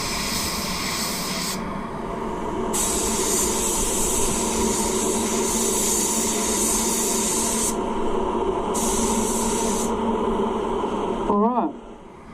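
Spray gun laying down PPG Machine Gray sealer wet-on-wet over Mazda car parts, a steady continuous hiss with the air flow pausing and restarting a couple of times before cutting off near the end.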